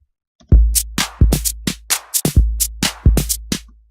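An electronic drum pattern made in FL Studio thumps with deep kicks and a crisp 909 snare and hi-hat hits in a steady, punchy groove, loud and dry.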